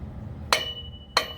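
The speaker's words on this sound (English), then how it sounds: "just a small hammer or sledge or whatever you want" Two sharp metallic taps from a small hammer striking a press-fit front wheel hub on a 2014 Ram 3500 4x4, spaced about two-thirds of a second apart, close and ringing briefly after each hit.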